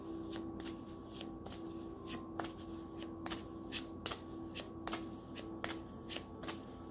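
Oracle cards being shuffled by hand in a tarot-style reading, giving a steady run of crisp, evenly spaced riffling snaps close up, with a faint tone humming underneath and no talking.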